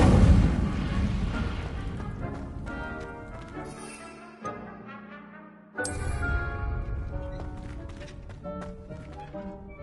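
In the Hogwarts Legacy video game, an Incendio fire spell goes off as booming, crackling bursts: two sharp hits in a row over a dense, rumbling game soundscape that slowly fades.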